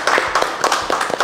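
Scattered clapping from a small audience at a comedy talk show, brief and uneven with a few distinct hand claps.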